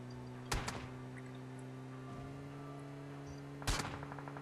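Gunfire in the mobile battle royale game PUBG Mobile: two separate sharp, loud shot bursts about three seconds apart, each with a quick rattling tail, over a steady game hum with no talk.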